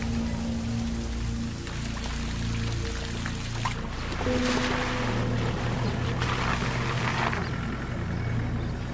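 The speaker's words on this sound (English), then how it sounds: "the rains appear with more frequency." Rain falling across the African savanna, a steady hiss of drops and spatter with a low rumble beneath, growing denser partway through, with no voices.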